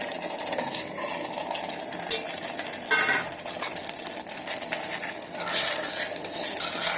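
Chicken pieces are stirred in a sauce thickened with corn flour inside an electric kettle, with wet scraping and soft clinks of a utensil against metal over a faint sizzle. No voices.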